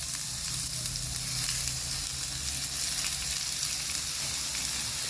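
Crumbled ground beef frying in a pan, a continuous dense sizzle with faint stirring, steady and close with no talking.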